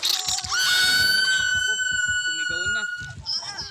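Survivor character screaming in the Dead by Daylight video game, a loud sustained high-pitched shriek rising sharply and holding for a few seconds, with rhythmic game footsteps and background sounds beneath.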